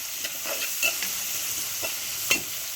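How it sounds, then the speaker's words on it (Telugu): One large thinly sliced onion sizzles steadily in a hot pan, with occasional light stirring scrapes over the continuous close frying hiss. "సన్నగా తరిగి పెట్టుకున్న ఉల్లిపాయలు, ఒక పెద్ద ఉల్లిపాయ మొత్తం వేసేసానండి నేను."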